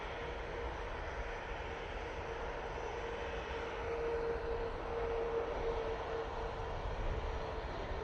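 Airplane arriving at Manchester Airport, a steady broadband engine roar that holds loud and continuous throughout, swelling slightly midway with a faint whine riding on top.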